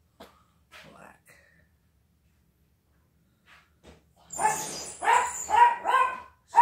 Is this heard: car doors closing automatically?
no